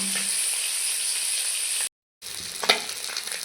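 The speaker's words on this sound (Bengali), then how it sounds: "সব মাছগুলো আমি দিয়ে দিয়েছি ভালো করে ভেজে নেব" Small puti fish fry in hot oil with a loud, dense, continuous sizzle heard close up, broken by a brief silent gap, then resuming with a few sharp spatters.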